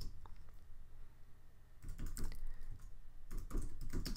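Keystrokes on a computer keyboard entering a Minecraft chat command, in two quick bursts of clustered taps separated by a short pause, fairly close over a low steady hum, no talking.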